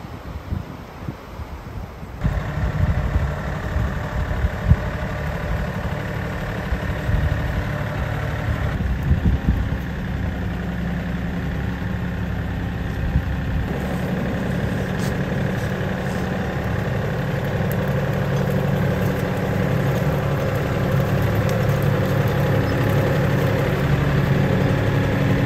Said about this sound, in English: Tractor and 3-point auger really make short work of drilling the holes.